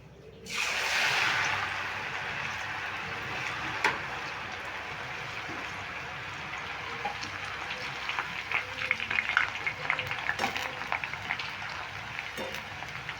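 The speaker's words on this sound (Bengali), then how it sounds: "এই হাই ফ্লেমেই কিন্তু আলুগুলো ভেজে নিতে হবে এবার আমি অল্প অল্প করে আলু দিয়ে দিচ্ছি" Shredded potatoes for jhuri aloo bhaja hit hot oil on high flame, a sudden loud burst of frying that settles into a steady, crackling sizzle with occasional stirring clinks, no talking.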